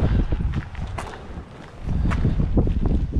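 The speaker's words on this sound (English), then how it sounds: "The wind has not let up at all." Strong wind at a trout fishery buffets the microphone in heavy low rumbling gusts, easing briefly in the middle before surging again, with faint rustling and thuds beneath.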